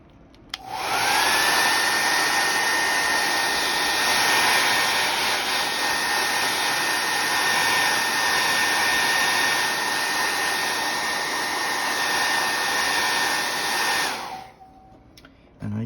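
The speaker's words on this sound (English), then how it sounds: "we gotta bring out our trusty hair dryer" A hair dryer blows steadily outdoors in a garden, a loud continuous whoosh with a high whine that starts abruptly, holds evenly for about thirteen seconds, then cuts off.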